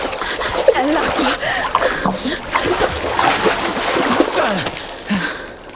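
Water splashes and sloshes steadily in a video game scene from The Quarry, a loud continuous churning with voices shouting and gasping over it.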